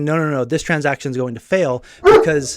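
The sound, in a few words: dog barking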